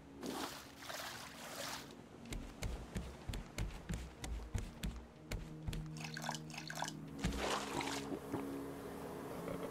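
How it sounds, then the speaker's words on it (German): Water being poured and sloshed in Raft while refilling and watering crops, soft splashing and dripping with small clicks and knocks, fairly quiet and intermittent. "Jetzt müssen wir nur noch mit Wasser auffüllen und auch noch mal gießen."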